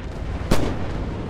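Artillery fire in the Red Orchestra 2 video game: a single sharp, heavy blast bursts out over a steady bed of battlefield ambience and fades quickly.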